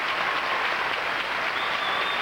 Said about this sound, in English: Canadian team members cheering them on